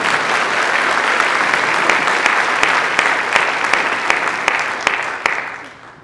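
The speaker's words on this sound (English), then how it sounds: "Let's give them a round of applause." Audience applause for a high school Air Force Junior ROTC unit at a city address event, loud, dense, sustained clapping filling the room before tapering off at the end.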